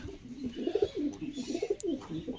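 A pigeon gives a series of soft, rhythmic low coos nearby, fairly faint against a quiet background, with a couple of small clicks.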